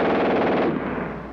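WWII-era machine gun firing at a very high rate, a dense, loud ripping burst of rapid shots that stops abruptly and leaves a short echoing tail.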